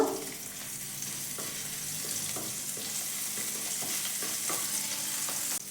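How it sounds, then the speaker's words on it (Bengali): Garlic frying in mustard oil in a wok, a steady close sizzle with occasional stirring scrapes and taps. "রসুনটাকে একটু ভেজে নেব"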